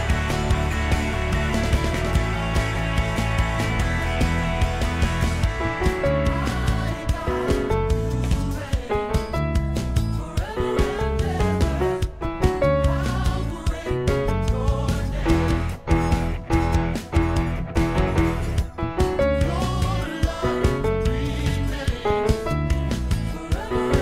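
Piano plays a song along with a full backing track, steady and loud throughout with a dense band-like accompaniment and no talking.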